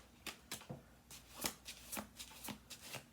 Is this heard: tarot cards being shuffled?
yes